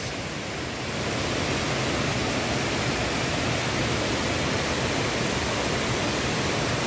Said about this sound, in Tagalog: Ito yung Mimbalot Falls guys.